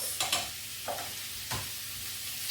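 Carrots sizzling in oil in a pan while being stirred, a soft steady crackle with several scraping clicks of the utensil against the pan, close and fairly quiet.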